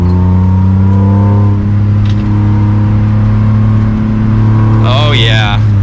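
A 2022 BMW M3 accelerates, its exhaust and engine giving a loud, steady, deep drone heard from inside the car that holds throughout, with a brief sharp noise near the end.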